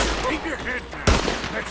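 Gunfire in Red Dead Redemption, with one sharp, loud shot cutting through after a stretch of players chatting in Portuguese.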